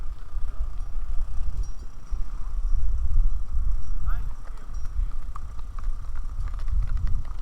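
Horses roaming among cars and trash in Sarajevo, Bosnia, clip-clopping with scattered hoof knocks under steady wind rumble and background voices.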